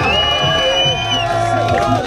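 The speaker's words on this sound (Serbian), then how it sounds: "Duži, veći, jači aplauz za ovoj istorija!" A crowd cheers, whoops and applauds at a 2019 junior skateboarding championship in Belgrade, a dense, steady roar of voices and clapping throughout.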